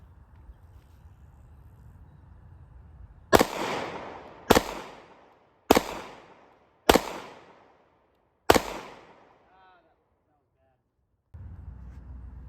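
Five sharp pistol shots ring out one after another at an outdoor range, each a loud crack with a short decaying tail, spaced roughly a second apart against a low background hum.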